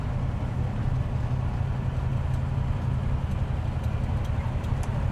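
A rebuilt 1960s Ferrari V12, a 330 GT 2+2 or 365 GT 2+2 being run in, drones steadily under throttle on a straight with a loud, even low rumble and no talk.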